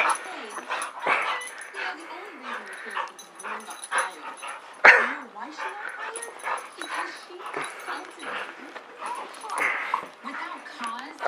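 A playful dog yips and whimpers in quick, irregular bursts close by, mixed with a person's frequent talking and exclaiming over the commotion throughout.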